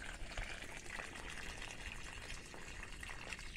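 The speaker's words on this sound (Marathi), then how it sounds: "सगळ्या झाडांना पाणी घालायचं सुरू आहे." Water pours steadily onto plants in a home garden, a soft continuous splashing and trickling at low volume without pause, with no voices.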